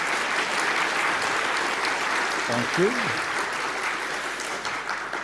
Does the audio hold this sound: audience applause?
yes